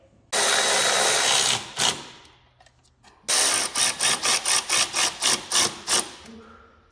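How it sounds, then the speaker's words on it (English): Ratchet working on the bolts of a snowmobile chaincase, on a 2014 1100 Turbo: a long loud buzzing run, a pause, then a second burst followed by a steady series of about ten short clicking pulls close by. "Tickety-boo, tighten her up, get the corner, get them all tight"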